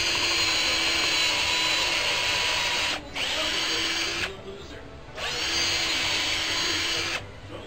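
Power drill bores into clamped wood for a homemade bed frame, loud and close, whirring steadily in two long runs separated by brief pauses.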